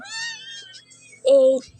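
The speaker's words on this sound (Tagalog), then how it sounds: "Ito yung pusa niya." A pet cat meows twice close up, a first drawn-out tonal call followed after a pause by a louder, shorter meow, in a quiet room with no talking.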